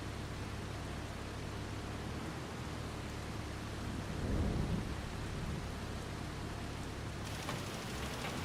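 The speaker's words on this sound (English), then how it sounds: "Is it raining? It's raining." Rain and thunder in Farming Simulator 25, a steady hiss of falling rain with a low rumble of thunder swelling midway, faint and continuous.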